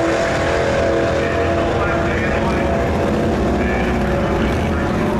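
A 1956 Chevy at a drag strip launches off the starting line with a dense, loud engine roar that holds steady throughout, blending with the other race car and crowd noise.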